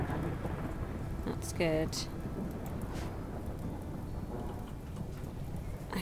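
Steady downpour and rumbling thunder from a thunderstorm in the video game RimWorld form a constant loud bed, with a brief spoken remark over it midway.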